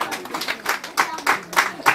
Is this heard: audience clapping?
yes